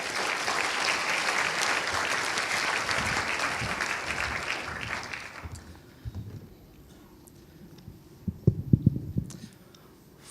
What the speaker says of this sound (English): Please join me in giving him a warm round of applause.